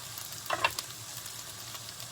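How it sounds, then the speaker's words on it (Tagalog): Hamburgers fry in a pan with a faint, steady sizzle and a couple of brief crackling pops, fairly quiet throughout with no voices. "Nagluluto tayo ng hamburgera."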